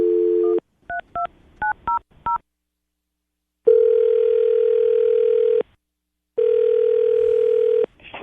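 Touch-tone telephone dialing sounds as a string of short keypad beeps, followed by two long ringback tones separated by a pause, all loud and clear with no voices.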